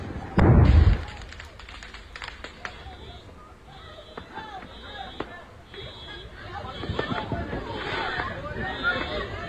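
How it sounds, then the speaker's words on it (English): A homemade firework goes off with a loud, close thudding blast near the start, followed by scattered crackles and pops while a group of people chatter and exclaim in the background. "Some homemade fireworks."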